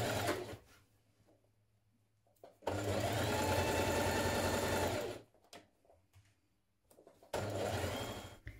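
Sewing machine stitching the central back seam of a dress with a 1 cm seam allowance, two loud sustained whirring runs of stitching separated by a quiet pause with faint handling noises.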